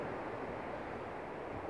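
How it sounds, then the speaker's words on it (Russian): Calm Black Sea surf on a still day washes steadily against the shore near Anapa, a soft, continuous broadband hiss without distinct wave breaks, faint and even throughout. "такой шум прибоя, красота"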